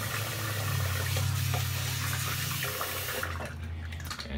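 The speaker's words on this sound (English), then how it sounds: "I'm gonna go ahead and rinse real quick." Steady tap water runs and splashes into a sink during a quick rinse, loud and close for about three seconds, then drops off to a quieter trickle before the clip ends; no one speaks.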